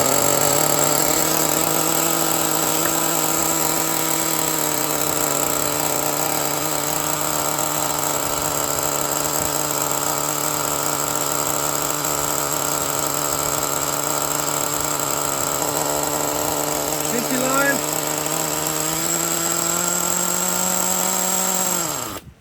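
A custom Traxxas nitro T-Maxx RC truck engine idles steadily after a cold start, giving a loud, continuous buzzing drone that holds constant for most of the clip before rising slightly near the end.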